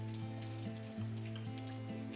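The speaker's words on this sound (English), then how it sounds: "The heavy rain seems to drown out the world." Heavy rain pours steadily in the game Love is Strange, a dense, even wash of falling water heard alone alongside a low, sustained musical drone.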